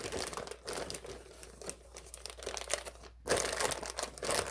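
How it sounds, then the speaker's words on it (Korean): A plastic bag crinkles and rustles up close as it is laid inside a pot, in a continuous, irregular stream, growing louder toward the end. "냄비를 이렇게 뚜껑을 열어 가지고 비닐봉지를 먼저 깔아 줍니다"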